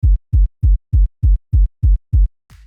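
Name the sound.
FL Studio kick sample cut short for bass punch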